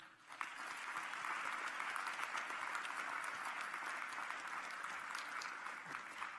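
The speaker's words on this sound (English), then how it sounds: "join me in a well-deserved round of applause for the loved ones who have supported you" A graduation ceremony audience gives sustained, dense applause, many hands clapping evenly from start to finish at a moderate distance.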